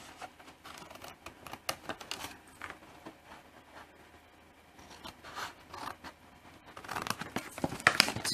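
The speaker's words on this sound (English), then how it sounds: "you're going to snip down those tabs" Scissors snip down small paper tabs on a punch-board envelope box, a quiet series of crisp cuts and crinkles at close range, growing louder and busier toward the end.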